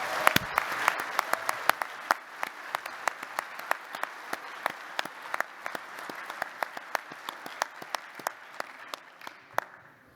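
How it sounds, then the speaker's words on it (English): Banquet and awards ceremony audience applauding for Diana Teal, a long run of clapping with many distinct sharp claps over a crowd wash, steady and lively for about ten seconds before slowly fading. "I'd like another big round of applause for Diana Teal"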